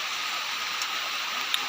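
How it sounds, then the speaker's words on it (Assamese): Rain falls outdoors on a cloudy day in rural Assam, heard as a steady, even hiss of drops with no voices and only a couple of faint ticks. "এতিয়া বৰষুণটো আকৌ আহি গ'ল।"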